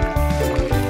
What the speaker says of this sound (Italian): ma se nel mio bicchiere metto l'acqua,